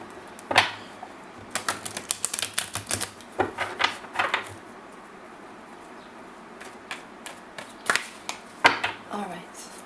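A deck of tarot cards is shuffled in quick bursts of crisp riffling and tapping, with pauses between and a brief stretch of quiet.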